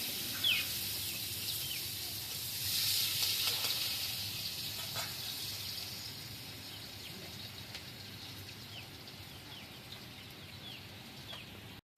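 Chopped onion hits leftover fish-frying oil seasoned with black cumin, giving a faint, steady hiss that rises briefly near the start and then settles into a low, continuous sizzle with no talking.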